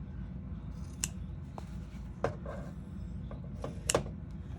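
Scissors snip through a vinyl bag's top corners in a quiet room, with two or three sharp, distinct cuts spaced a second or so apart and nothing else happening between them.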